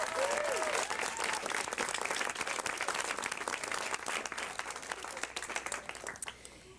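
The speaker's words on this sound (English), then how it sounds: "let's give them a great round of applause" A city council chamber audience applauds three schoolteachers being honored, steady dense clapping filling the room for several seconds before thinning out near the end.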